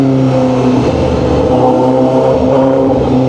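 A Honda CBR1000RR-R Fireblade SP superbike with a 2023 sprocket change pulls hard under acceleration, a loud, sustained engine roar with steady harmonics, close and continuous, no voices.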